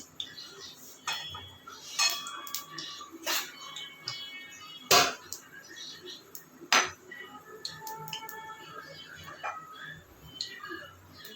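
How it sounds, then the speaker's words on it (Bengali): A wok clanks onto a home stove and oil is poured in while cooking greens, giving scattered metallic clinks and knocks at an irregular pace, with a person speaking throughout. "কড়াই বসে দিচ্ছি, একটু তেল দিতেছি পরিমাণ মতন"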